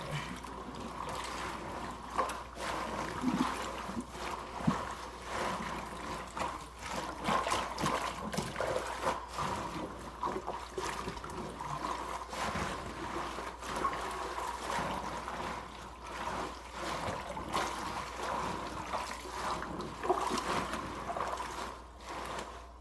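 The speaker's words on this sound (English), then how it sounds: "Submerge the greens in water." Collard greens are swished and rinsed in a basin of warm water and vinegar, giving soft continuous splashing and trickling with occasional sloshes, close and fairly quiet, no talk.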